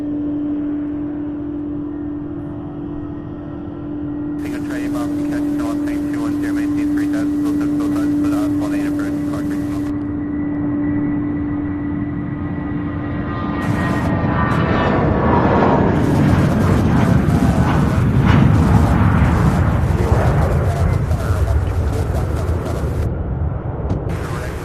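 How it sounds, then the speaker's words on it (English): At an airport with a UPS cargo hub, an MD-11 taxis with a steady tonal jet whine, then a Boeing 767 passes with a louder broadband roar that swells and lingers toward the end. "So that MD-11 was taxiing over, and then from the other side, a 767 heading to Fresno"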